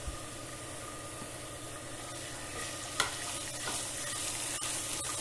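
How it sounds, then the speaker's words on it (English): Finely chopped garlic sizzles in extra virgin olive oil in a pan, a quiet, continuous hiss with a faint low hum underneath and a couple of small clicks. "Add in the finely chopped garlic."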